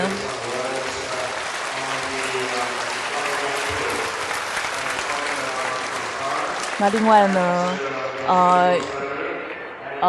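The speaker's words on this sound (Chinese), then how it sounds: "他也是值得大家给他一个热烈的掌声" An audience applauds an English translator at a Buddhist teaching, a steady spread of clapping that fades out near the end as a voice speaks over it.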